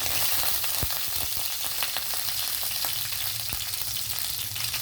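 Garlic and lentils fry in hot oil in a wide pan, giving a steady close sizzle with a few sharp clicks from stirring and no voices.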